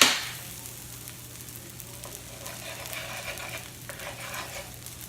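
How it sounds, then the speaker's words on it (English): Four eggs frying in a pan beside fried rice makings, a steady moderate sizzle with a faint tonal hum underneath, opening with a sharp loud burst as they hit the hot surface, then settling into even crackling. "basically just letting our eggs fry"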